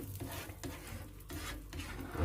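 Scrambled eggs with garlic and spring onion are stirred around a pan over medium heat, giving repeated scraping strokes over a soft sizzle, close and fairly quiet, with no voices.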